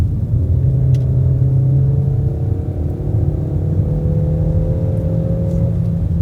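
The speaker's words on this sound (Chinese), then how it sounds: "滚滚的那种引擎声浪就涌向你的感官" A Peugeot 5008 SUV's 1.6-litre turbo engine gives a steady, loud, deep rumble for several seconds, with a gently rising drone that suggests light acceleration while driving.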